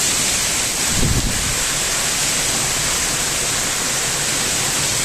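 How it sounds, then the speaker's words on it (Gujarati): Heavy rain falling steadily in a dark evening downpour, a dense continuous hiss that stays loud and even throughout, with a brief low thump near the start. "જોરદાર વરસાદ આવી ગયો."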